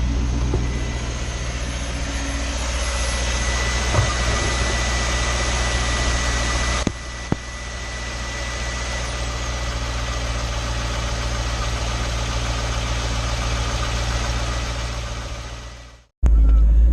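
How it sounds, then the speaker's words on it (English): Car engine idling on premium gasoline, a loud, steady, close-up hum with a constant low drone and no knocking, running smoothly and evenly before a brief bump near the middle, then cutting off abruptly near the end. "We're going to listen to this motor"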